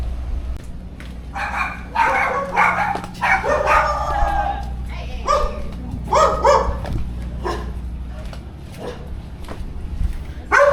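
Several aggressive dogs bark repeatedly and close by on Ko Tao island, Thailand, sharp irregular bursts overlapping one another, with a low rumble of wind or movement underneath.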